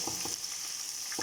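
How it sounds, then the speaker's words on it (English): Sliced onions fry in a pan under a steady hiss and sizzle, with a few soft scraping strokes of stirring at the start and end. "Give it a stir."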